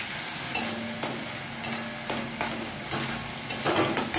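Kofta curry gravy frying with yogurt and tomato paste in a pan, a steady sizzle broken by regular scraping stirs about every half second, close and with no voices.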